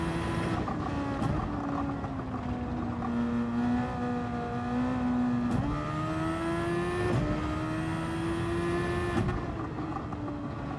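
Super Formula race car in Gran Turismo 7 at Spa, its engine droning steadily loud throughout, with pitch sliding down and climbing back through several gear changes and shifts, no voices over it.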